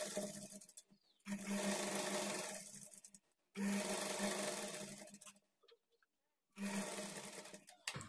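A sewing machine stitching a blouse runs in three steady, fairly quiet bursts, each a few seconds long, with short pauses between them and no talking over the motor.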